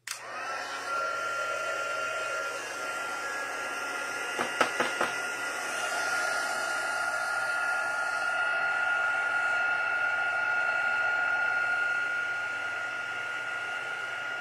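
A heat embossing tool blows a steady, loud hissing whoosh at power setting 2 as it melts embossing powder over Versamark ink on a card background, running almost continuously with a few faint clicks partway through.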